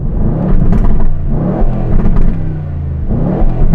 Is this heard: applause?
no